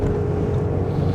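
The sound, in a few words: wind noise inside 2025 Audi SQ8 at high speed on Autobahn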